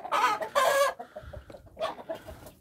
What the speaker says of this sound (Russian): Петухи уже подрастают,